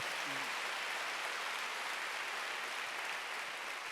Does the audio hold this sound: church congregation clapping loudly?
yes